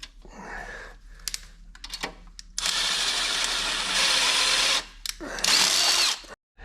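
Power drill whirring in bursts while chasing bolt threads on a Bobcat 600 skid steer, short buzzing runs stopping and starting, then a sustained loud spin, close by with no talking.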